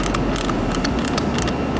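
A ratchet tightens bolts on a PVC bolted flange fitting, with quick metallic clicks repeating over a loud, steady background noise.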